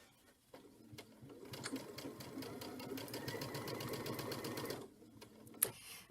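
Fabric is stitched through a hemmer foot on a sewing machine, which runs in one steady, rapid mechanical whir for about four seconds, fairly quiet and close, then stops with a small click.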